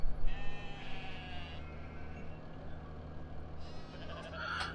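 Sheep bleat in a flock on a farm, with several drawn-out calls close by over a steady low hum of background machinery.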